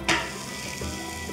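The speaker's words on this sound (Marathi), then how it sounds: "याच पद्धतीने सगळे पराठे मी इथे भाजून घेते." Parathas for a fasting meal roasting until crisp in a pan, giving a brief sharp sizzle at the start that settles into a steady, moderate frying hiss.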